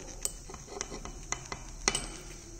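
A utensil stirs hot milk as acetic acid is added drop by drop, making light clinks and scrapes against glassware at an irregular rhythm, fairly quiet.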